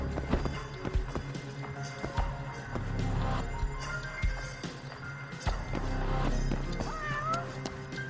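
A cat meows in the video game Judgment, several short calls spread over a busy ambient game soundscape with steady background noise, close by rather than distant.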